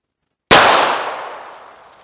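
A single revolver shot fired at a target from about 5 yards outdoors, a sudden loud crack followed by a long decaying ring, standing alone without talk.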